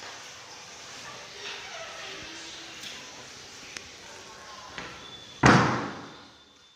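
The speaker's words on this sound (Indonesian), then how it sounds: "Terdengar suara bantingan pintu." A door slams shut with one loud, sharp bang that decays quickly, coming after several seconds of quiet room tone with a few faint knocks.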